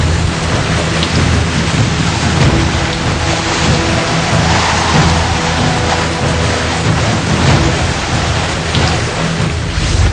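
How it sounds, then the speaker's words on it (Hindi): Steady rain falls during a cold, icy wind in Delhi, with a constant broadband hiss and low rumble filling the whole stretch at fairly loud level, no voices present. "बर्फीली हवा और बारिश से कांपी राजधानी।"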